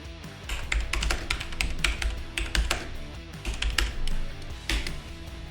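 Rapid keystrokes on a computer keyboard entering a song name into a search box, bursts of clicky taps coming in short runs with brief pauses, close and fairly clear with no talking.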